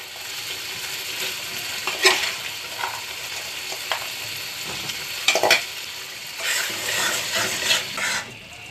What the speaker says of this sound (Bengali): এখন আমি ভেজে রাখা আলু আর সিমের বিচি দিয়ে মশলার সাথে একটু কষিয়ে নেব।